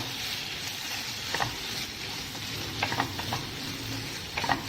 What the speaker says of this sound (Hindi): मैंने इसमें लिए हैं उबले हुए आलू, जिसको मैंने हल्का सा मैश कर लिया है, वो हम इसमें डाल लेंगे और इनको हमें फ्राई करना है